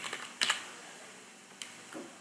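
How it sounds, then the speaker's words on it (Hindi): Fingers type on a computer keyboard, with a short burst of clacking keystrokes followed by a few isolated taps in a quiet room. "टाइप करेंगे।"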